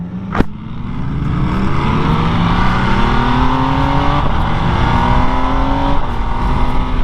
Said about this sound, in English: the quick shifter feels very crisp at these lower RPMs so far